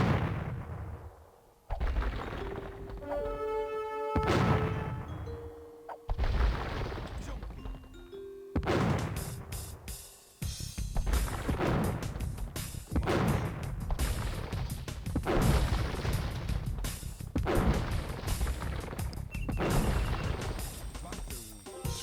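Spanish cannon units in Age of Empires 2 fire repeatedly, each boom mixed with chiming game tones and a steady clatter of battle effects.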